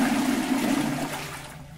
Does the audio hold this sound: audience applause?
no